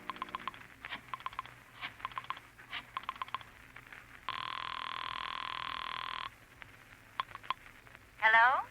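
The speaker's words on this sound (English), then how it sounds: "you dial Julie's private phone at the club" A private phone being dialed: a rapid series of short dialing tones, then a long steady ring tone, followed by a brief warbling burst at the end, fairly close and clear.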